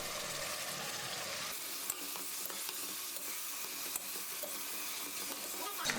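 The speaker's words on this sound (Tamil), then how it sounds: "இதையும் நல்லா வதக்கி விட்டுடலாம்." Onions and chopped tomatoes sauté in a pan for tomato chutney, giving a steady, close sizzle with soft stirring scrapes throughout and no talking.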